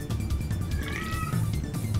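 Insistent cat meowing and caterwauling indoors, several close, wavering cries packed into a couple of seconds over a low background hum.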